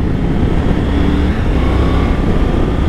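A Triumph Tiger 850 three-cylinder motorcycle pulls under acceleration while being ridden, its engine a steady loud drone mixed with wind rush throughout.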